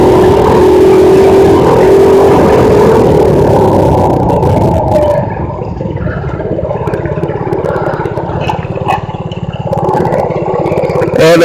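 A mini bike engine runs loud and close throughout while it is ridden, with a steady buzzing drone that revs higher early on and then settles into a rough, clattering idle-to-cruise rumble.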